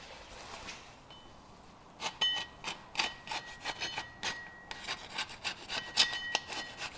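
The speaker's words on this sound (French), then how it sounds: "avec une lame de cutter trapézoïdale, surtout neuve pour éviter d'abîmer la portée de joint. On gratte" A new trapezoidal utility knife blade scrapes the gasket surface of a Range Rover Sport 6HP26 transmission in a run of short, rhythmic rasping strokes. The strokes are faint and close, with no talking.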